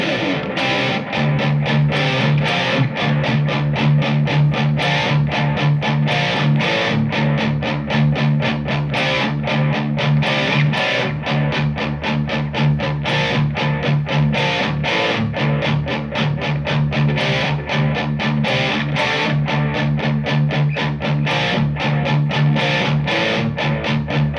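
Electric guitar played through a Laney IRT15 amp with drive and delay engaged, a continuous dense distorted tone with repeating echoes over steady strummed and picked notes, loud and alone throughout.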